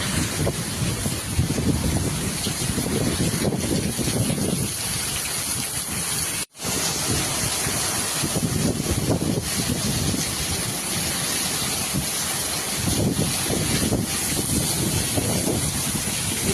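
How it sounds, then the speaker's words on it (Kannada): Strong storm wind buffets the microphone on an open road during a thunderstorm, a loud continuous roar with gusting surges and one brief cutout. "ಇಂಥ ಗಾಳಿ ಇಂಥ ಅಯ್ಯೋ ನನ್ನ ಜೀವನದಲ್ಲಿ ಹುಟ್ಟದಾಗಿಂದ ನೋಡಿಲ್ಲ"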